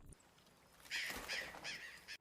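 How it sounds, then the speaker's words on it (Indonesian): Several harsh crow caws ring out in a short burst, fairly close and loud against a quiet background, with no one talking. "Beruntungnya itu hanyalah seekor burung gagak"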